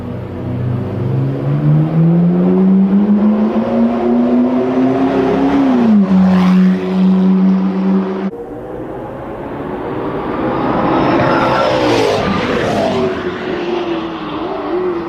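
Pagani Zonda Revolution track supercar engine driving on a circuit, a loud, sustained high-pitched roar that rises and falls through gear changes, with a brief cut partway and a passing swell near the end.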